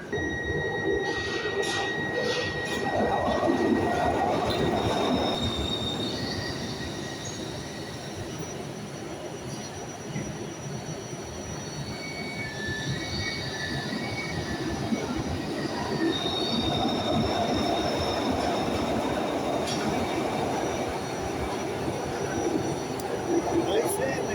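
A Glasgow Subway train at Govan station platform rumbles and squeals along the rails, with a steady loud roar of wheels and motors and some faint voices underneath.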